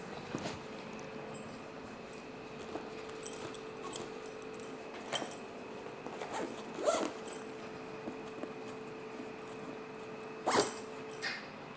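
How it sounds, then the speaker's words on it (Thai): A zipper is pulled shut on the cover of a CPR training manikin, several short rasping strokes with pauses, quiet and close in a calm room. "รูดซิปนะครับ"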